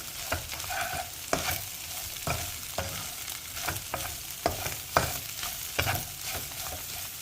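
Chicken pieces for Korean-style chicken fingers stirred and fried in a pan after salt and spices are added; steady sizzling runs under repeated scraping stir strokes that come every second or so, close and fairly loud.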